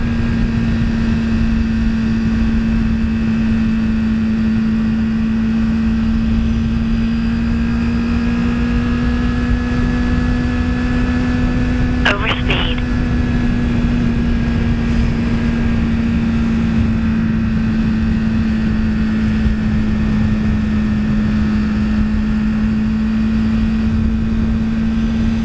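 A motorcycle cruises along a highway at about 100 km/h, with a steady engine drone and constant wind rush heard from the rider's position and no talking.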